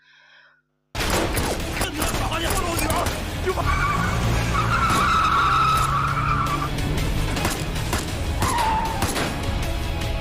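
Tires screech loudly as a black car speeds up and skids to a stop in an action film scene, a long squeal over engine roar, with abrupt impact-like bangs.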